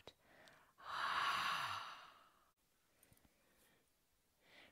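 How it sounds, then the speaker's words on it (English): A slow, deep breath drawn in and then let out during a children's yoga session, soft and close, followed by quiet. "Take a deep breath in. Sit nice and tall in your body and take a deep breath out."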